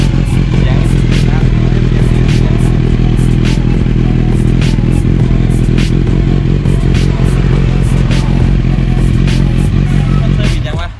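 A Yamaha MT-09 or Kawasaki Z900 naked motorcycle engine starting and running loudly up close, a continuous rough idle with clattering mechanical ticks throughout before it cuts off at the end.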